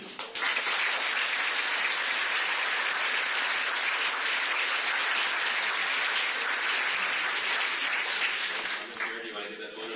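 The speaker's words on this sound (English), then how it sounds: "Give me a real quick round of applause for the students." Audience members at a mayoral debate applaud the students, a long, dense burst of many hands clapping at steady volume that fades near the end, where talk begins underneath.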